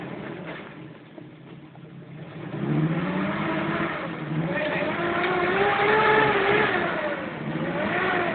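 A jeep engine revs and accelerates up close, its rising and falling pitch building over a few seconds and holding loud with no talk.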